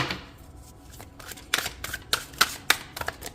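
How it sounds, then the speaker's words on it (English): A deck of tarot cards being shuffled close up, a quiet riffle at first building into a run of crisp, rapid snapping flicks with no voice over it. "She won't stop shuffling."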